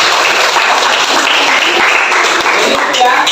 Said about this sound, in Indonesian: Ya, tepuk tangan untuk Simia.